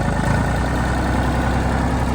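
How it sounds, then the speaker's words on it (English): Tractor engine running hard to drive a PTO shaft while sowing fertilizer on sweet corn, a loud, steady, heavy engine drone that is close to the microphone and continuous throughout. "you push the clutch in, put it in high, first gear, and then we throttle it up."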